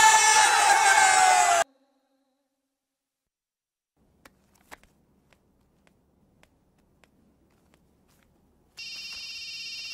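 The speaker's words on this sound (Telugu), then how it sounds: "Hello, phone ఎత్తానాలమ్మా." A telephone rings with a loud electronic trill at the start, then sits silent apart from a few faint clicks and knocks, before the ringing returns near the end.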